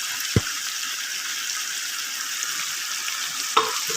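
Onion and tomato paste being stirred into ginger-garlic paste frying in a karahi for chicken karahi: a steady, close sizzle with a couple of sharp scraping knocks from the spoon, no voices.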